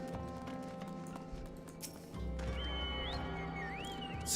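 A horse whinnies loudly in a video game over a steady background hum, following a thud and some quieter clattering.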